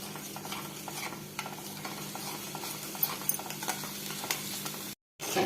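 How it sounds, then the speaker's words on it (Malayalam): A spiced mixture for Kerala-style kadumanga mango pickle bubbles and simmers in a pan with continuous soft sizzling and stirring scrapes, ending abruptly after a brief silent gap, with no talking. "ഇതൊന്ന് നന്നായിട്ടൊന്ന് തിളയ്ക്കട്ടെ"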